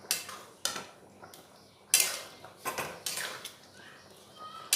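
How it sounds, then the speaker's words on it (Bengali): Duck meat stirred with spices in a pot, bursts of scraping and clattering from a spoon against metal, irregular and fairly close, with short quiet gaps between strokes. "দিয়ে ওই মশলাটার সাথে মাংসটা 2 মিনিট নাড়াচাড়া করে নেব"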